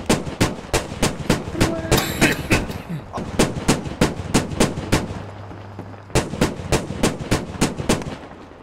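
Rapid gunfire aimed at a tank in the military shooter Squad, loud close bursts of evenly spaced shots with a brief pause in the middle and a low engine hum underneath.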